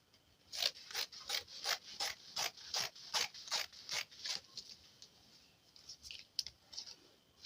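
Fabric being cut for a dress: about ten crisp, evenly spaced snipping cuts close by, followed by a few slower, irregular cuts.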